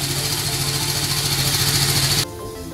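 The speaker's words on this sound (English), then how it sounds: "we will run the bike for a couple of minutes and then we will shut it off" A BMW G 310 motorcycle engine idles close by with a steady, even throb, then cuts off abruptly near the end, leaving only a faint background hum.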